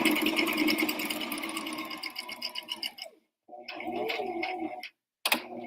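A sewing machine stitches fabric for an apron in steady, rapid bursts up close, pausing briefly between runs, then starting again loudly with no talking.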